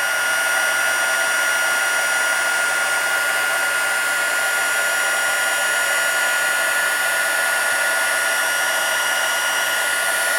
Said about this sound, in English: I'm not sure if you can hear me over this heat gun here.